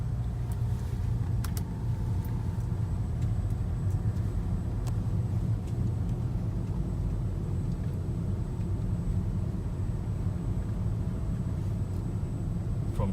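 Toyota Harrier driving, a constant low engine and road rumble heard from inside the cabin with a thin steady high tone above it and a few faint clicks.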